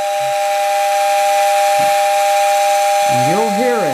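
A postwar toy train's steam whistle winds out as a steady, loud, hissing tone, with a faint wavering sound near the end.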